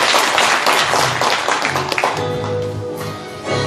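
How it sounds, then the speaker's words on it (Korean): An audience at a town-hall citizens' meeting in Daap-myeon, Gwangyang, applauds to welcome a guest, with dense loud clapping at first that thins and fades as voices take over. "큰 박수로 환영해 주시기 바랍니다."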